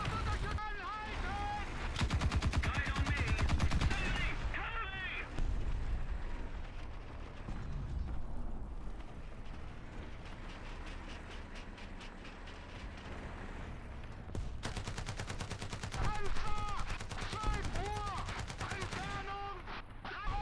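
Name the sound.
T-10A tank machine gun fire, War Thunder Mobile video game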